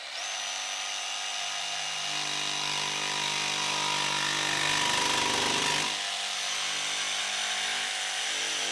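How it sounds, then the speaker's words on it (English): A DeWalt DCS334B 20-volt brushless cordless jigsaw makes a plunge cut. Its high motor whine and rapid blade buzz hold steady and close, then rise into a denser rasp midway as the blade bites, before easing back. "Now let's do a plunge cut here."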